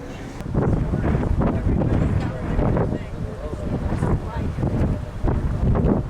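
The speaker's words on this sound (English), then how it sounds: "Very windy here" Loud, continuous wind on a boat sailing north of Avignon, near hillside vineyards, rumbles and buffets across the microphone with uneven gusts throughout.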